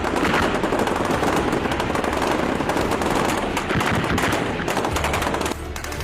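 Many guns fire at once in dense, continuous rapid bursts, a loud unbroken crackle of battle gunfire.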